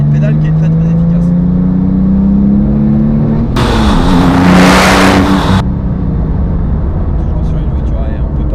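Porsche 997 GT2 engine accelerating, a rising mechanical drone heard from inside the car, with a sudden loud rushing burst in the middle before the engine note settles, someone talking over it.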